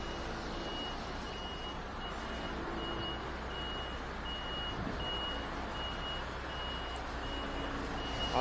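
An HGV Class 1 articulated lorry backs out on a multidrop delivery, its reversing alarm beeping steadily and evenly over a low diesel rumble and faint road hum, with no talk.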